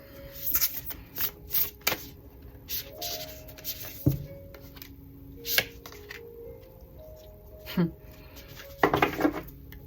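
Tarot cards shuffled and handled by hand, giving a run of short riffling and snapping bursts with brief pauses between them, close and moderately loud, with faint talk in the background.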